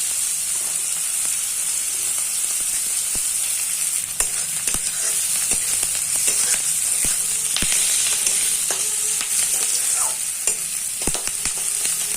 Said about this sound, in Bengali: পেঁয়াজ দিয়ে একটু নাড়বো।